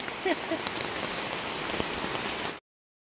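Heavy rain drumming steadily on a surface nearby at a forest campsite, a dense even patter with a brief voice early on, cutting off abruptly near the end.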